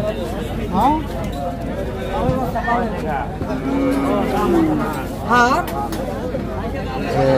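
At a livestock market, young heifer calves and bull calves give a few drawn-out moos amid a busy murmur of crowd chatter and nearby talk.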